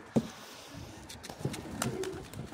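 Pigeons cooing outdoors on a cold, windy, rainy day, a few short low coos in separate bursts, one sharper at the start and others scattered later over a steady wind hiss.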